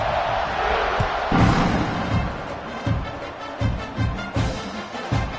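Home crowd noise at an Oklahoma versus Washington football game, a steady roar of stadium voices with swelling cheers and sharp thumps, continuous and loud throughout.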